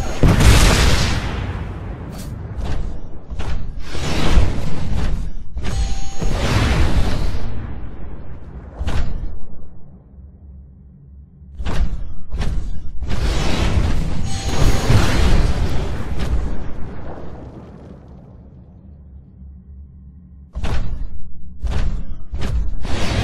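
Rockets blast and thud repeatedly in a Titanfall hallway, a series of loud booming explosions in uneven clusters separated by brief quieter gaps of low rumble.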